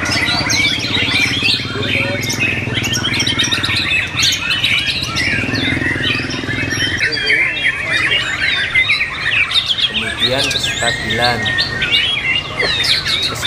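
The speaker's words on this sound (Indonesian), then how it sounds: "saat burung murai batu berkicau lebih dari awal didatang hingga akan beres penilaian" A white-rumped shama (murai batu) sings loudly at a bird song contest, pouring out a dense, varied stream of whistles, chirps and rapid trills close up, while other birds and crowd noise fill the background and someone speaks briefly.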